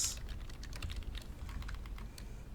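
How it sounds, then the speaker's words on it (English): Steady, quiet clicking of computer keyboard typing, a fast run of light keystrokes alone with no speech. "ignore the typing"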